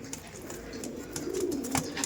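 Racing pigeons coo in a loft, a soft low throaty rumble that swells slightly toward the end, with light scattered knocks and rustles around it.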